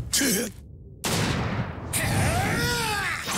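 Rifle troops fire in the video game Basara 2, bursts of gunfire and booms broken by sudden gaps of silence, with game effects and tonal sweeps layered over the shooting.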